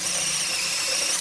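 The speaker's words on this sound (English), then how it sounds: "You can see I'm drilling into the electrode material." A 4 mm drill bit bores into the metal electrode of a stuck glow plug, giving a steady, high-pitched grinding whine that holds unbroken through the short clip.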